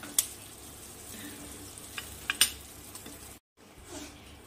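Green chillies frying in a kadhai until soft give a low, quiet sizzle, broken by a few sharp metallic clicks and scrapes of stirring and a brief dropout near the end, heard close with no voices.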